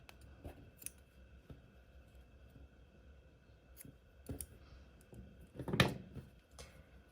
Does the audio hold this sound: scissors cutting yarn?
yes